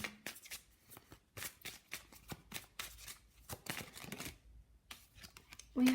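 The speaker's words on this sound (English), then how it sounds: "So I'm gonna pull some Witch's Wisdom Oracle cards for you." Witch's Wisdom Oracle cards being shuffled by hand, a close, crisp run of papery riffles and flutters that come in irregular bursts with brief pauses, with no talking over them.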